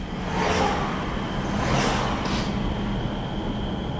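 A motorcycle engine that won't start properly runs with a steady rough drone and a couple of swelling revs, close and loud, with no one speaking.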